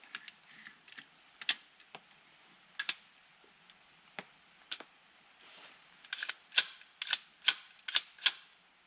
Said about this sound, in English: We're going to insert the 22 long rifle bolt.